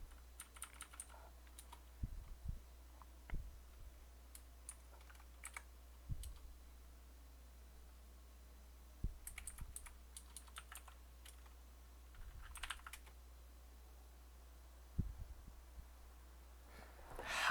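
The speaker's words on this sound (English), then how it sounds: "I typed it wrong." Typing on a computer keyboard, with short scattered bursts of close, crisp key clicks separated by quiet pauses, and no talking.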